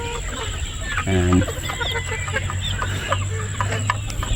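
Chickens of breeder stock, E.B. and local breeds, clucking in a farm pen, with one louder call near and several softer clucks around it over a steady background hum, and someone speaks briefly.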